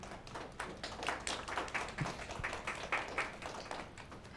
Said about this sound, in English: how about we just give our panel a quick round of applause here?